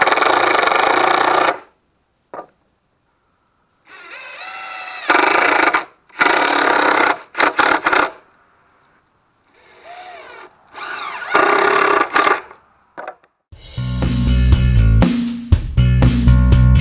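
A power drill drives screws into small ripped wood strips for a mini camper storage box, in several short bursts of whirring with pauses between, close and loud, ending in a heavier rattling run.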